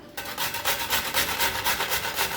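Ripe tomatoes rasp against a hand grater for egg keema, a quick, even series of about ten scraping strokes, close and moderately loud, with no talking.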